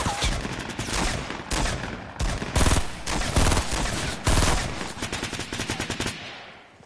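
Fortnite gunfire comes in loud, rapid automatic bursts, close up, broken by short pauses and finishing with a series of quicker separate shots. No talk is heard.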